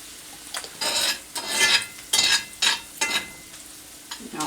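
Minced garlic, about three cloves' worth, sautéing in a pan for potato soup, heard as repeated close bursts of sizzling and stirring scrapes with brief quieter gaps between them.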